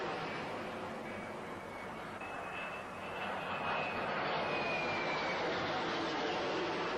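Carrier-based military jets from the task force, flying together during a Falklands War air raid, give off a steady, fairly distant roar that builds slightly midway and stays faint and unbroken.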